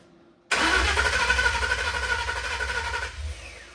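A Ford Coyote V8 swapped into a car cranks and catches on brake cleaner for its first start, roaring abruptly from near silence into a loud rough idle for about two and a half seconds before dropping away.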